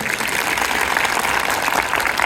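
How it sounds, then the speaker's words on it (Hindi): Schoolgirls at a Delhi girls' school clap loudly for a sports teacher, a dense continuous burst of applause filling the whole short moment. "एक बार अंजलि मैम के लिए जोरदार तालियां हो।"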